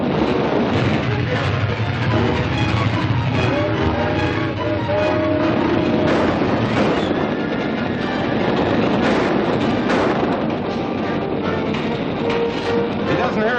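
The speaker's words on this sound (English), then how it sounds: "This train is going to be derailed." A train runs in a 1948 film serial, a dense continuous rumble and clatter with bell-like ringing tones mixed into the loud, steady soundtrack.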